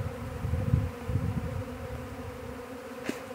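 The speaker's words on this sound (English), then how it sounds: "And you can hear them. I mean, we're standing in the middle of them. A tornado of bees." A dense, low droning buzz of a honey bee swarm all around, steady and close, with no voices.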